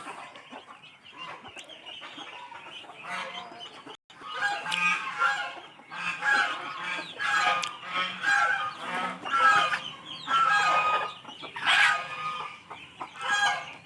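Domestic geese and chickens call in a farmyard in the morning, a busy mix of repeated honks and clucks at close to middle distance, overlapping in irregular bursts.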